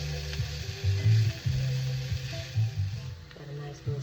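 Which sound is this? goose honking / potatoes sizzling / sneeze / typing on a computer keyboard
potatoes sizzling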